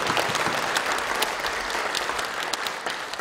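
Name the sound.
congregation applause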